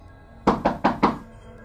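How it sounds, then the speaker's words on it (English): Four steady, evenly spaced knocks rap on a window at night in a quiet room, sharp and close, each one loud and distinct against faint background hiss. "until another steady set of knocks came at the window."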